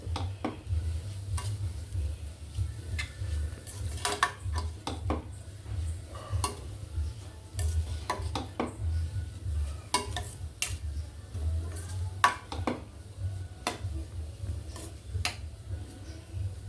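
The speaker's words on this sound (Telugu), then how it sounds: "ఇలా జస్ట్ ఒక వన్ మినిట్ కలుపుకొని" A beetroot, carrot and rice mixture being stirred in a pan, with steady scraping and clinking of a spoon against metal over a low continuous sizzle, close and moderately quiet, no talking.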